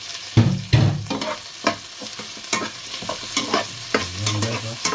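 Shrimp heads sizzle in a hot pan while being stir-fried, with scraping stirs and bursts of frying crackle in irregular strokes, close and fairly loud.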